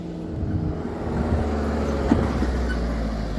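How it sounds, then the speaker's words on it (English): A rubbish truck rumbles past on a street near a castle in Barcelona, a broad low engine drone that swells and holds steady with a faint clatter midway, amid general traffic noise. "That's not a bus, that's a rubbish truck."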